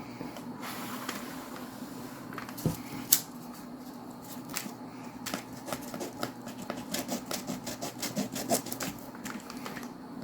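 Sandpaper rubs against a part of a Tyco Power Torque Baldwin RF-16 Sharknose HO scale locomotive under repair. The rasping strokes come close and fairly quiet, speeding into a quick run of short scrapes toward the end.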